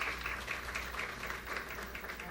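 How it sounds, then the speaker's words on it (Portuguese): An audience claps at a school event as a student comes to the front, a dense, even wash of many hands at moderate level, steady throughout with faint room hum beneath. "Um aplauso."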